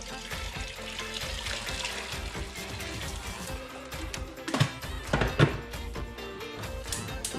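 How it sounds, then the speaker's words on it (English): Boiling water is poured from a kettle or pot over chicken sitting in a brine of vinegar, sugar and salt. The stream trickles and splashes steadily in a home kitchen, with a few louder gurgles near the end. "top it over with the boiling water"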